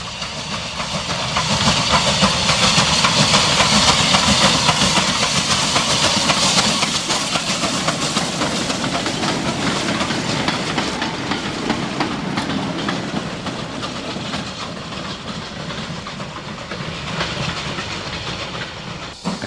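A Cantabrian 262 steam tank locomotive hauls a well-filled local train on a Spanish narrow gauge railway in 1967, loud continuous hissing and chuffing with rattling wheels and clickety-clack that fades slightly as it passes, with no talk.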